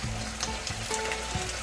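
Tofu goes into a pan of sautéing vegetables, giving a soft continuous frying sizzle with a few light clicks and stirring knocks, fairly faint and free of speech.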